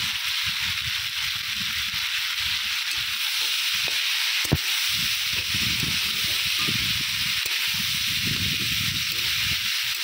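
Banana flower, eggplant and potato frying together in a pan give a steady close sizzle with occasional stirring scrapes and one sharp clack, continuous for the whole stretch.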